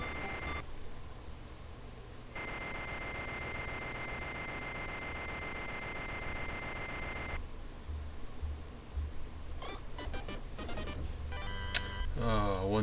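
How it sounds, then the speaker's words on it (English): An alarm clock rings in Wario's house in the video game Wario World 2: a steady, loud, buzzing electronic tone holds for about five seconds over low background game noise, followed by scattered short blips and effects. "One noisy morning, turn off the alarm clock."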